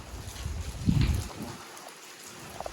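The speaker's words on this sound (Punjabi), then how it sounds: "ਓਹੋ ਬਾਰਿਸ਼ ਆ ਰਹੀ ਹੈ ਜੀ ਬਾਰਿਸ਼ ਕਾਫੀ ਤੇਜ਼ ਹੈ" Heavy rain pours down at a farm field, a steady broadband hiss with a denser rush near the start that thins toward the end, heard close with no talking.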